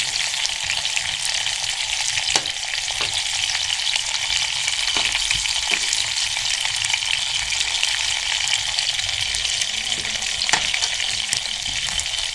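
Lahori-style fish pieces fry in hot oil with a steady, loud sizzle and crackle that carries on without a break, with a few sharper pops and spatters. No voices are heard.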